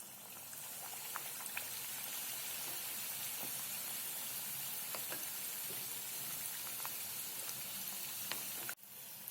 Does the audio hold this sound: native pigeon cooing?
no